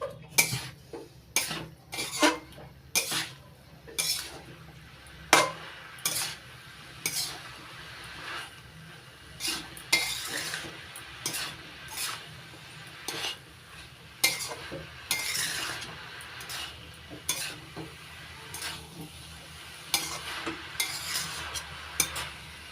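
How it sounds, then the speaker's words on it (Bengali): Boiled banana flower stir-fried with spices in a pan, a long run of rapid rhythmic spatula scrapes and taps against the metal over a quiet sizzle, near and without speech. "এবার সেদ্ধ করে নেওয়া মোচা মশলার সঙ্গে ভালো করে কষিয়ে নিচ্ছি 1 মিনিট"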